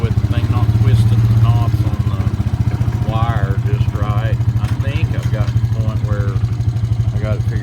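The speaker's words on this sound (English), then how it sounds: "I'm gonna move this skid loader out of the way" A skid loader's engine idles and rumbles steadily at close range inside a barn, holding a low, even throb with a brief swell early on; faint voices seem to come through over the engine.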